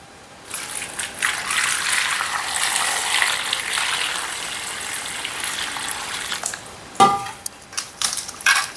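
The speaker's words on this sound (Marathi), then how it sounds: "तर आता हे आपल्याला स्वच्छ आता 2 पाण्याने धुवून घ्यायचं" Beetroot being rinsed in running water, a steady gushing trickle close by that stops abruptly, followed by a few short splashes and clinks of handling in the bowl.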